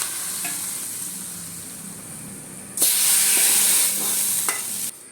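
Mustard seeds fried in coconut oil are poured into a drumstick-leaf and dal curry in Kerala style, bursting into a loud, steady sizzle and hiss for about two seconds after a quieter stretch of faint stirring.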